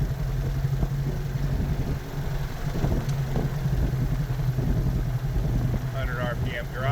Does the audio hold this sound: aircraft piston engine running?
yes